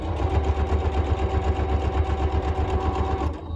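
A sewing machine stitches quilt binding at a steady fast pace, its motor humming with a dense rhythmic needle chatter up close, stopping abruptly near the end.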